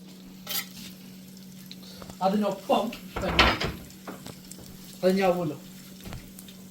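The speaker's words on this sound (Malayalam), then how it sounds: "കുറച്ച് എണ്ണയിൽ ഈ ഗാർലിക് ഇനി ചെയ്യാൻ പോട്ടെ" Garlic fries in a little oil in a pan, giving a faint, steady sizzle with a few clinks of a utensil, while someone talks over it in short bursts.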